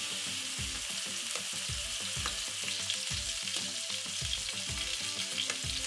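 A whole red snapper sears in hot oil in a pan with a loud, continuous crackling sizzle. Irregular low thumps and rattles sound beneath it, and no one speaks.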